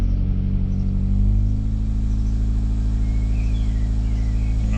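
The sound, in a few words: hydrogen-fuelled car engine idling with crackling noises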